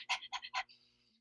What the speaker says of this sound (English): I'll do the panting breath